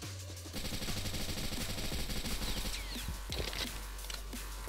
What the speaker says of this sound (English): This gun has some recoil